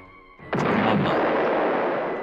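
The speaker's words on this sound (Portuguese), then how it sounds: "O som da explosão." A sudden booming explosion in the video game I'm not a Monster bursts after a quiet moment, followed by a long crackling rumble that slowly fades.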